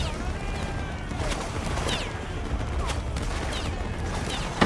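Massed musket volleys from a Napoleonic-era line battle in a video game, with scattered crackling shots over a constant battlefield din, moderately loud throughout.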